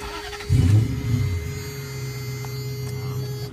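A Lexus 1UZ-FE V8 swapped into a 1991 Toyota pickup cranks and catches with a short loud burst, then settles into a low, even idle under a steady electrical hum, with no talking.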